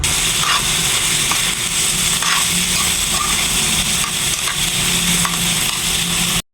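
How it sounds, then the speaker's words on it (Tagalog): Sisig tapa fries in a pan with oyster sauce and seasoning as it is stirred, a loud, dense, unbroken sizzle with faint scraping and crackle throughout, then cutting off abruptly at the end. "Maglalagay nga pala tayo ng mga pampalasa ng oyster sauce, umami, paminta, tapos haluin lang ho natin ng mabuti"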